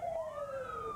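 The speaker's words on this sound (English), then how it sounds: "you can hear the sirens in the background" A siren wails with a rising and falling tone, heard briefly and moderately loud.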